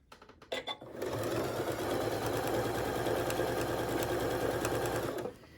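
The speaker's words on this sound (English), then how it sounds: "using a 1/4 inch seam allowance, going forward and doing a little back stitch" A sewing machine stitches a bag seam forward with a short back stitch, a steady, close whirring hum after a few brief clicks, then stopping.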